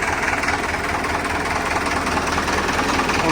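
A tractor engine runs steadily and loudly, a continuous close rumble with a knocking diesel texture, as the driver turns it around in a very tight space on a farm.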